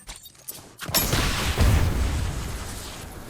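A gun fires in a first-person shooter video game, a sudden sharp blast followed by a rumbling burst of shots that trails off, loud and close with no speech.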